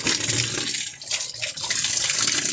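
Tap water runs steadily while a washing machine is being cleaned, making a close, continuous gushing hiss with no voices.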